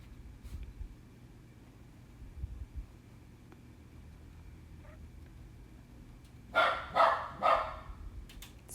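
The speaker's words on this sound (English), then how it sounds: "Sorry, that's my dog barking." A dog barks three times in quick succession, fairly close and loud, over a quiet indoor room with low background hum.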